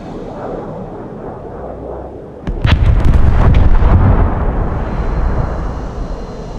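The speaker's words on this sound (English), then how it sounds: "Someone's bombing our base." Bombs explode at a base in the War Thunder air combat game, with a sudden loud blast followed by a rolling cluster of heavy booms and rumbling that slowly fades, and no voices.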